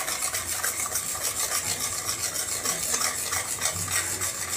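A mixture is stirred steadily into a pan of boiling water while cooking paalkova and rice sevai, with a continuous close rasping and scraping of the utensil against the pan.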